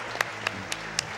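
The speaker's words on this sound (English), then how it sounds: "Please clap." Clapping at a live speedrunning marathon during a Super Metroid run, about five evenly spaced, sharp claps over a low room murmur, brief and fairly close.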